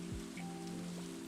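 Steady rainfall in the farming game Stardew Valley, with fine pattering spread across the clip, a faint plop or two and a low tonal hum of game music underneath.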